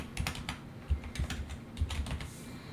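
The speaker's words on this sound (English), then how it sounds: "what we're going to do here is just type out pre-calculus" Keys clatter on a computer keyboard in a quick, uneven burst of close taps while a word is typed out for book-cover lettering, with no talk over it.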